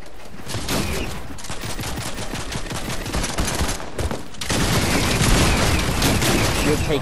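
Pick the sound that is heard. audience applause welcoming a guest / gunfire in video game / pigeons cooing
gunfire in video game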